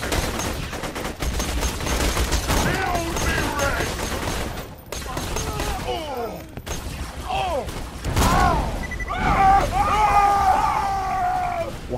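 Gunfire rattles in a Borderlands 2 co-op firefight, with repeated shots and bursts and an exploding fire barrel, loud and dense throughout, with voices talking over the action.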